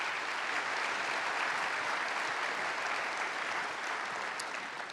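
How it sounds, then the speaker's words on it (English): Steady, dense applause from a large keynote audience at a business summit, holding at an even level throughout. "And can I have a round of applause for Jennifer?"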